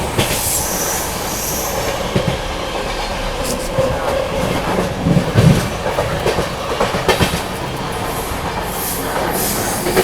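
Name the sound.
train passing through Mirzapur railway station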